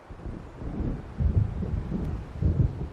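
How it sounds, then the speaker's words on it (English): Low rumbling thunder from a storm rolling in across open water in the video game Alan Wake, swelling in two heavier rolls over a steady windy, rainy wash. "It seems there's a storm coming."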